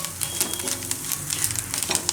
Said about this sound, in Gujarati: હવે લાલ મરચું ને લીલા ધાણા બધું મિક્સ કરી લેવું.